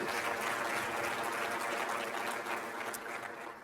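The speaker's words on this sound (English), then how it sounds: "I think that actually deserves a round of applause right now" Audience applause at a charity dinner event, a steady wash of many hands clapping in a large room, sustained and moderately distant, tapering slightly toward the end.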